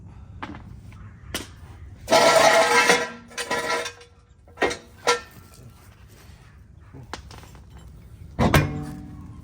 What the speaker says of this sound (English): the lug nuts were so hard, we have to grab the breaker bar. So now we're loosening.